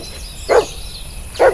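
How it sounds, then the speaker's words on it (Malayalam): A dog on a forest path gives two short, sharp barks about a second apart, fairly close, with quiet outdoor ambience between them. "ഇവിടെ പട്ടിയുണ്ട്,"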